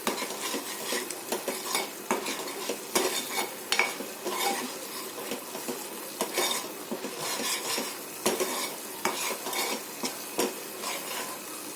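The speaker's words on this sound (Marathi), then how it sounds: "आता छान याला आपण तेल सुटस्तोवर आपण छान याला परतून घेऊया।" A spoon scrapes and clinks against a pan while fish curry masala with turmeric and red chili is sautéed in sizzling oil for a pomfret curry, in rhythmic close stirring strokes.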